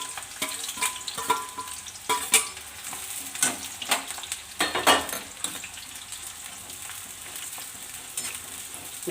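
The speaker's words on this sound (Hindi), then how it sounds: "तेल हो गया गर्म, इसमें डाल देते हैं प्याज बारीक कटी।" Sliced onions frying in hot oil in a kadai, a steady close sizzle broken by repeated spatula scrapes and stirring clacks in uneven bursts, no speech over it.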